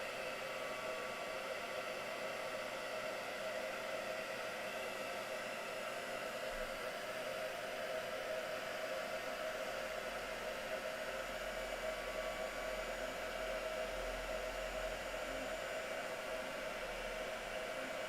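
A heat gun blows steadily for heat embossing in a papercraft demo, a constant whooshing, hair-dryer-like roar that stays even and close throughout with no pauses.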